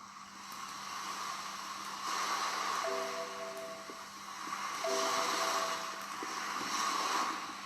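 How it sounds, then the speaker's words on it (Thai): Ocean waves wash in broad, steady surges with a constant roar that swells and recedes, joined by a faint steady hum and brief tonal beeps partway through; no voices. "ไปฟังเสียงคลื่น กันก่อนนะคะ"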